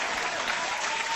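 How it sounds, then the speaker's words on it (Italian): A studio audience on a television variety show breaks into brief, dense, even applause to welcome a guest named Simone, loud and close with no talk over it. "Un applauso, Simone!"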